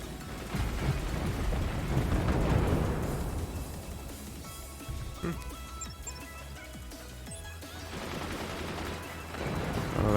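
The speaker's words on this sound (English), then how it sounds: "Oh, that's so many swarm missiles" Swarm missiles launch in the Forts RTS game in a dense rumbling barrage of rapid blasts and whooshes, loud at first, easing off, then building again, while someone talks over it.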